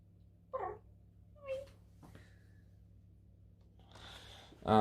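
A grumpy pet cat named Lola in a home kitchen gives a couple of short, close meows and small vocal sounds, separated by quiet pauses, with a louder burst of rustling and movement at the end.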